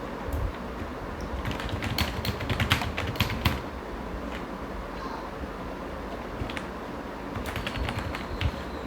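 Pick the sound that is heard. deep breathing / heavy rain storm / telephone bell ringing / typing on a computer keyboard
typing on a computer keyboard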